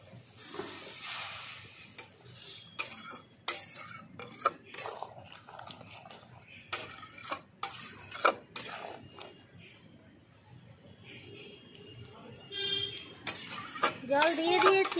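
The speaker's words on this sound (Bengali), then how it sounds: "এবার আমি মিশিয়ে নিলাম ভালো করে।" A shrimp and okra mixture is stirred in a pan, with a spoon clinking and scraping against the metal in quick, uneven strokes, close and fairly loud, over a faint background hum.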